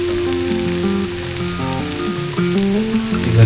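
Spices, turmeric and garam masala among them, sizzling in hot oil in a frying egg masala, a continuous close crackle under a steady tonal hum, with no voices.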